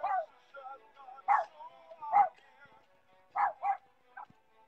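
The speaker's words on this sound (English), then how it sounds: "There's my doggy barking." A dog at a poolside karaoke gathering gives several sharp, separate barks and yips spaced across a few seconds, fairly close against a quiet background.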